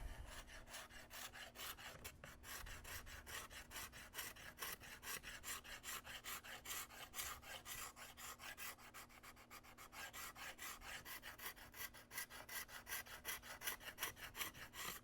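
A scraper works steadily across a flood-damaged wooden K98 rifle stock in a fast, continuous run of close, rasping strokes that lasts throughout, with no one speaking.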